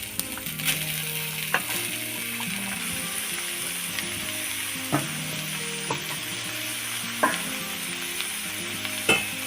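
Vegetables and prawns sizzle in a pan for a chal kumro, coconut and prawn dish, a constant frying hiss broken by repeated sharp clinks and scrapes of a spatula stirring, close and moderately loud.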